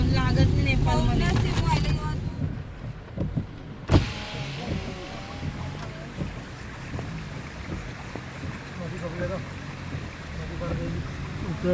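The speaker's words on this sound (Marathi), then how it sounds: "आपण गाडी चाललेली आहे, अशी गाडी चाललेली आहे" A car driving on a road toward Pokhara, Nepal, after a long traffic jam: steady engine and road rumble with wind buffeting the cabin, a loud thump partway through, and people talking over it.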